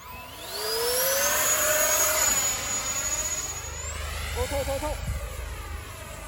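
A XANE 50mm ducted fan MB 339 Aermacchi model jet spools up into a rising, whining turbine-like howl that holds steady and shifts pitch as it passes, with people talking briefly over it.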